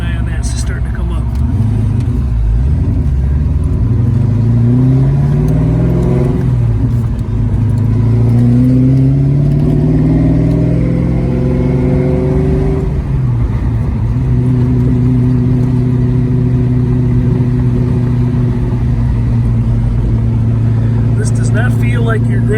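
A 1967 Ford Mustang convertible with a 5.0 engine and five-speed runs on the road, rising and falling engine tones through gear changes under steady cabin rumble, with a person talking over it.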